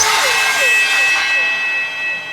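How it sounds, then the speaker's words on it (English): Two metal kitchen pot lids struck and rubbed together, giving bright ringing metallic tones with swooping, siren-like pitch bends, close and loud throughout. "Two lids from our kitchen."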